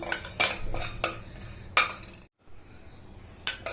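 Mudavattukal tuber soup ingredients being dry roasted in a pan, with sharp metallic scrapes and clinks of a utensil coming at irregular intervals, fairly close and alone, with a brief silent gap midway.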